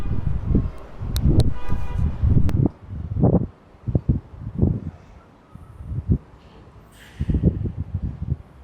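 Wind buffets a Saramonic Blink500 B2+ wireless clip-on microphone, with noise cancellation on, in uneven low rumbling gusts that come and go, loud and close, with no talking.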